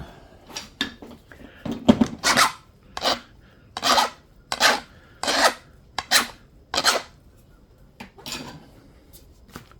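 Stone being abraded to sharpen the edge of a banded obsidian point during flintknapping, heard as a series of about ten short, close rasping scrapes in an uneven rhythm with no talk.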